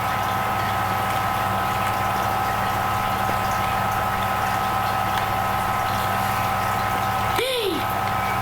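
A tap running water in the video game Phasmophobia, a steady hissing stream held at an even level throughout, with a brief whooshing sound near the end.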